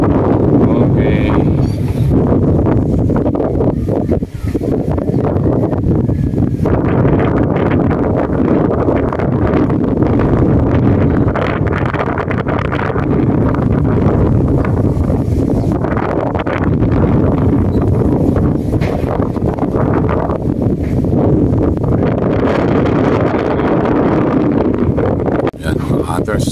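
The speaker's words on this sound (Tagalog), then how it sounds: "Hangin, kundi sana malakas ang hangin." Strong wind roaring across a small fishing boat at sea, a loud, continuous buffeting rush that swells and gusts without letup for nearly half a minute, with speech faintly under it.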